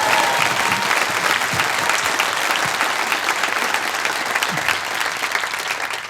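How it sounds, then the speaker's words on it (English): Sustained applause from a comedy club audience fills the room, dense and steady throughout, with a few faint voices or whoops under the clapping. "Give a round of applause for all the staff here,"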